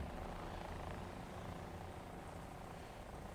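A distant vehicle engine drones steadily in the War Thunder combat game, a low continuous rumble with a snowmobile-like buzz that holds an even level throughout, with no talk over it.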